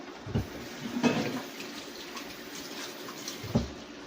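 Tap water runs while hands are washed after handling snow crab meat, a soft steady flow broken by a few splashy thumps near the start and again toward the end.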